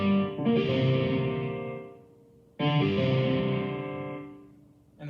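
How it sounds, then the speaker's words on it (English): A piano chord played through heavy distortion rings out twice, each loud, gritty strike sustaining and slowly fading before the next hits, with a third attack just beginning at the end. "Then it's like the distortion swallows it up and the notes are gone"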